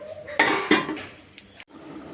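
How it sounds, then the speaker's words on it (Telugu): A lid set onto a pot of village-style dried fish curry gives two sharp, close clanks followed by a lighter rattle as it settles. "మూత వేసుకుందాం."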